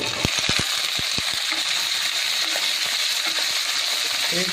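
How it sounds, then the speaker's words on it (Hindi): Chopped cauliflower hits hot oil with crackling cumin seeds, making a dense, continuous hiss of frying, with several low thumps and knocks near the start. "जीरा चटकने के बाद हम इसमें डालेंगे ये जो कटी हुई गोभी हमने रखा है"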